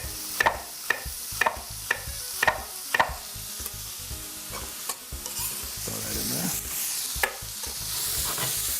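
Onion strips for a Cajun jambalaya get stirred in a sizzling frying pan. A quick run of regular utensil knocks leads into a steady fry, heard close with no talking.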